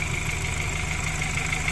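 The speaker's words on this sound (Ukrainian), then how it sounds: "Сідаємо, запускаємо. Двигун запускається з півоборту, помилок ніяких немає." A BMW X3 F25 with an N20B20 engine idles after a timing chain replacement, a steady, even hum with no audible rattles, close and continuous.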